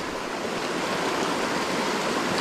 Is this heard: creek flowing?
yes